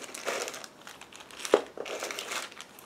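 Small plastic bags holding 1/35 resin model parts for a Pavesi P4/100-30A tractor crinkle and rustle close by, in soft irregular handling bursts with one sharper crackle.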